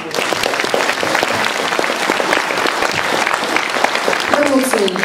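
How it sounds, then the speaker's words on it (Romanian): An audience at a Mărțișor spring celebration in Coșnița, Dubăsari, applauding official guests, with dense continuous clapping close and loud throughout and a voice faintly audible near the end. "haideți încă o dată să-i aplaudăm și să mulțumim oaspeții noștri oficiali"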